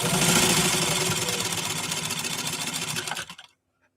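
A fully restored Singer 15-91 sewing machine stitches through thick indoor-outdoor carpeting in a workshop, its rapid steady needle clatter running loud and continuous for about three seconds before stopping abruptly.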